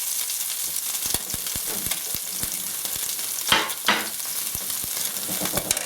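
Mushrooms sizzle in a hot frying pan with a steady hiss. A run of light ticks and taps from stirring breaks through, along with a couple of louder scraping pushes, all close up with no voices.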